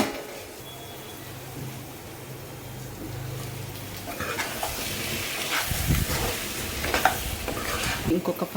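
Goat leg bone soup cooks in a covered pot, a low steady simmering hiss that grows louder and busier partway through, with bursts of bubbling and sizzling.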